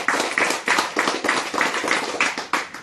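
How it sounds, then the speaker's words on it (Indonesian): An audience at a religious lecture claps in a steady, rhythmic beat of about ten loud claps, close and continuous, with no other sound. "Tepuk tangan."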